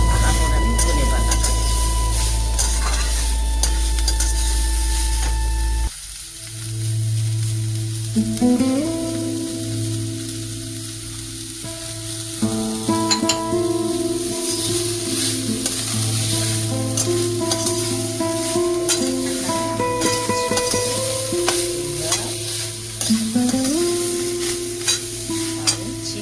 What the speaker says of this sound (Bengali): ক্যাপসিকামটা দিয়ে একটু নেড়ে চেড়ে